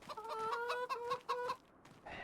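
Chickens cluck in a quick series of short, nasal calls, close and fairly clear, then trail off into quieter rustling.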